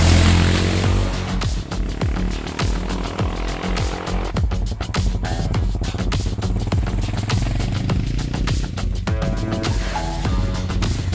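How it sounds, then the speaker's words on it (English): Honda motorcycle engine running on a ride, a loud, dense, continuous roar with rapid mechanical clatter and wind noise throughout, no talking. "Last ride and the engine sounds perfect."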